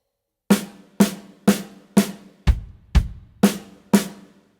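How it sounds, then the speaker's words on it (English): Eight evenly spaced snare drum hits played as rhythm slashes for a beginner drum fill, the fifth and sixth landing with a deeper, heavier thump, loud and close with no talking. "Let's start by playing all the rhythm slashes just on the snare drum."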